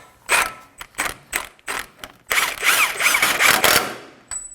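A ratchet snugs an axle nut on the front suspension of a 2017-2024 Nissan Armada, giving a string of close, loud clicking bursts, several short ones and then a longer continuous run of rapid pawl clicks.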